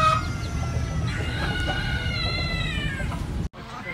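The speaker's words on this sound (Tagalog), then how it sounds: "Ito naman, mga babaeng manok." Farm hens and other chickens give a dense, steady run of clucks and calls, with a rooster-like crow rising partway through, all close and loud before a sudden brief drop near the end.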